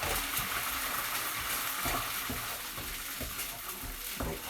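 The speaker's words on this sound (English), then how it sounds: "the onions are starting to colour, so I better put that tomato in" Onions frying in a pan for eggplant rolls with angel hair pasta and tuna, a steady close sizzle with soft stirring and scraping, then a few louder splashes as tomato goes in, with no talking.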